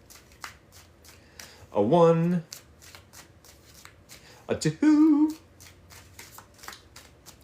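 Tarot cards are shuffled in steady, close riffling bursts, repeated in rhythm while a person speaks a count between them.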